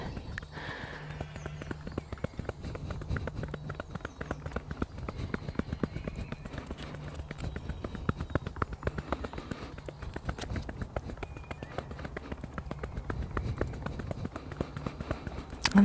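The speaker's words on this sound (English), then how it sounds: "So using my hands like cups, forming little bowls. Sometimes this can sound like horses' hooves," Cupped hands patter rapidly and evenly during an Indian head massage, a continuous hollow clip-clop like horse hooves on a road, close and soft, keeping a steady rhythm throughout with no talking.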